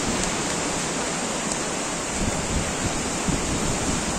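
Strong wind gusting at a Mallorca seaside, a steady loud roar with surf-like wash throughout and brief stronger buffets, no voices.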